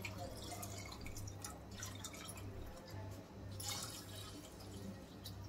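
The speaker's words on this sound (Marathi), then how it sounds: "तर 2 ग्लास पाणी टाकलं मी." Water poured from a glass onto soaked rice and dal for Khandeshi khichdi, a soft steady trickle with faint drips and splashes over a low background hum, fairly quiet and continuous.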